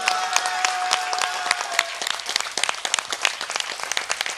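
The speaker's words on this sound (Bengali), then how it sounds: "সোমের জন্য জোরে হাততালি।" Audience applause at a stage play, a dense burst of many hands clapping that starts loud and full, then thins into scattered, uneven claps over a faint sustained tone.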